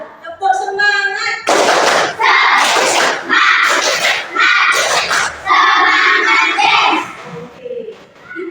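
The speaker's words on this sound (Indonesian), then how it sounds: "sebelum mulai pembelajaran kita beri tepuk semangat. Bisa? Tepuk semangat." A fourth-grade class performs the tepuk semangat cheer, with bursts of loud, close group clapping in a steady rhythm mixed with children's voices chanting along.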